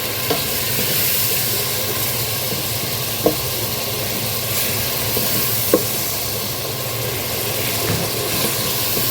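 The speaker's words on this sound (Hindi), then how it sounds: "अब हम इसमें लहसुन अदरक का पेस्ट ऐड कर देते हैं। अब हम इनकी अच्छे से भुनाई करेंगे।" Garlic ginger paste fries in hot oil in a pan for a chicken and potato curry, giving a loud continuous sizzle and hiss with a couple of faint knocks, no talking.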